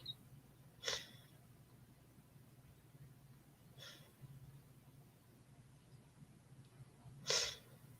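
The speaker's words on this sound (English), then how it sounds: "Oh, I have to sneeze." Three quiet, brief bursts of breathy sneezing or sniffing sounds spaced several seconds apart against a faint background hum.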